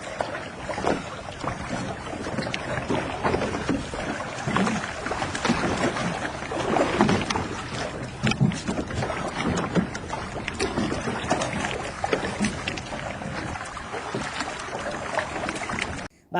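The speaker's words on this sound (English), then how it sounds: "the boat basically flips in the water" A small boat flips over in the water during a reenactment, giving continuous rough splashing and sloshing with wind buffeting the microphone, fairly loud throughout and with no speech.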